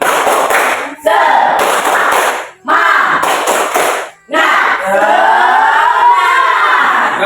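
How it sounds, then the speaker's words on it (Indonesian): A classroom of children chants the rhythmic 'tepuk semangat' routine, with loud bursts of group clapping in a patterned beat between shouted chant phrases, close and energetic. "Tepuk semangat."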